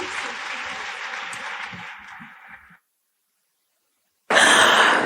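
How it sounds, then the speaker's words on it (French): An audience claps for a youth dance troupe at a national girls' education event. Muffled applause runs for nearly three seconds and cuts out, then after a short silence a louder burst of clapping starts. "Merci d'applaudir encore la troupe des espoirs de la banlieue."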